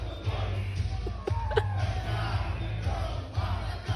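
A crowd roars and yells steadily as a wrestling-style performer doing Shawn Michaels' theme works them up, dense continuous cheering with a few sharper shouts rising out of the din.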